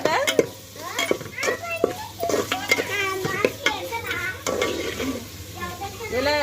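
Spice paste fries and is stirred in a pot over a wood fire for village-style crab curry, giving sizzling with repeated scraping and clinks while voices talk in the background.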